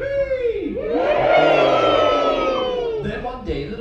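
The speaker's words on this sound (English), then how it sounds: "Everyone say, yippee." Theme park show audience shouting a drawn-out cheer in unison, a loud crowd of voices rising together, holding, then fading, with a few scattered shouts trailing after.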